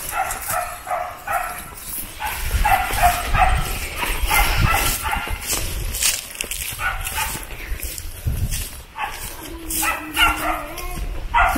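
A dog on a rural farm with banana plants barks and yips in short bursts at mid distance, with whimpering notes between them and some human voices in the background.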